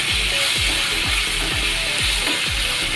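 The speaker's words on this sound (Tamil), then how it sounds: "கொஞ்சமாக இந்த மாதிரி கட் பண்ணி வச்சுருக்கிற தக்காளி போட்டுக்கிறேன்." Cut tomatoes frying in a pan for Kerala-style kadala curry, giving a steady broad sizzle with soft repeated thuds or scraping taps throughout.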